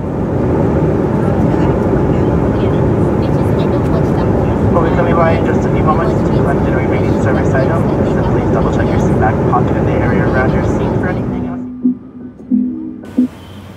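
Steady, loud broadband roar of a United Express CRJ700 cabin in flight near Los Angeles, filling most of the stretch before dropping away abruptly near the end, where a few faint knocks follow.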